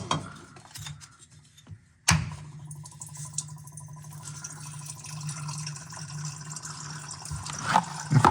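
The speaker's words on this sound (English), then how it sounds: "After that, I'm just gonna let it drain till it stops." Diesel fuel drains from a Ford F450 6.7L fuel filter into a drain pan, a steady close trickle and splash that starts abruptly and runs continuously under a faint background hum.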